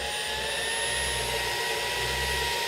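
A Maircle cordless vacuum cleaner runs at full power, a steady, loud high-pitched motor whine with an airy rush that holds constant from start to finish, with no voices.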